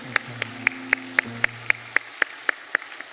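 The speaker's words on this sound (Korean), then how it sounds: "우리 박수 한번 하겠습니다." A church congregation at a Sunday worship service claps in a slow, steady rhythm, about a dozen sharp claps, over a fading low organ or keyboard tone.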